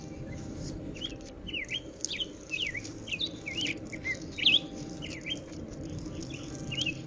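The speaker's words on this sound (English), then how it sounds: "Hear that bird, guys? That's a bird." A bird chirps outdoors in a steady run of short, repeated calls at moderate distance. The calls sit over a constant low rumble and no one speaks.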